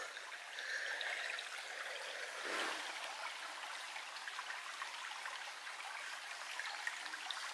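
Small brook trickling down a hillside, a soft continuous wash of running water with light splashy texture, steady and fairly quiet throughout.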